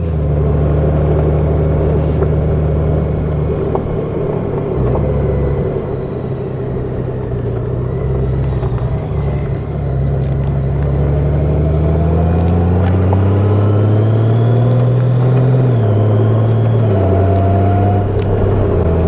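Honda Africa Twin motorcycle riding a rough, potholed gravel and sand road, its engine a loud, steady close drone with slowly rising and falling pitch and wind rumble throughout.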